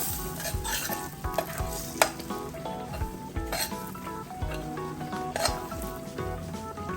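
Mustard and fenugreek powder stirred into hot oil for a spicy mint chutney, with a steady sizzle and frying crackle under repeated scraping and clinking of a spoon against the pan, close and continuous.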